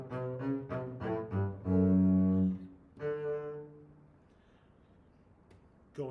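Slow, sustained double bass notes open a Mozart orchestral excerpt, several bowed tones in a row, the last one ringing and fading into quiet before a brief sound at the end.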